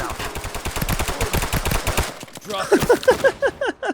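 A non-lethal weapon fires in the video game Rogue Point, sounding like ordinary gunfire: rapid automatic bursts for about two seconds, followed by quieter, scattered clattering shots.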